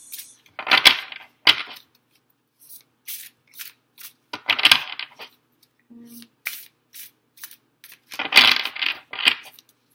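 Oracle cards being shuffled close by, bursts of riffling and slapping card noise in three clusters separated by small taps and shuffling sounds, with no talk.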